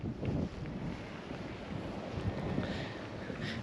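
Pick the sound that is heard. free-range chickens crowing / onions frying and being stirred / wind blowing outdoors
wind blowing outdoors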